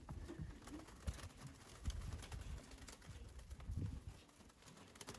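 Racing pigeons in a youth one-loft race setting coo softly at low volume, a faint murmur of low, rounded calls with some rustling and patter in the background, no clear speech.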